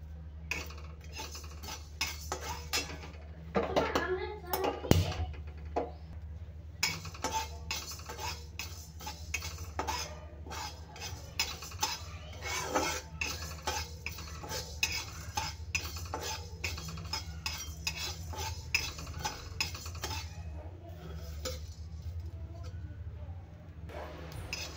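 Whole spices (coriander seeds, cloves, black stone flower, cardamom, cinnamon) dry-roast in a pan while a metal spoon stirs and scrapes repeatedly, giving close, rhythmic clinks and scrapes with a steady low hum beneath.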